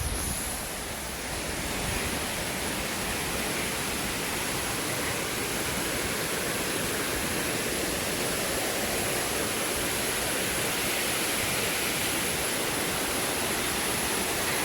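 A small waterfall beside a temple roars in a dense, unbroken rush of falling water, loud and close for the whole stretch with no voices.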